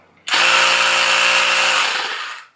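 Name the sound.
Ryobi cordless tire inflator running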